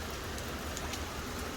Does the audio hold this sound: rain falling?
yes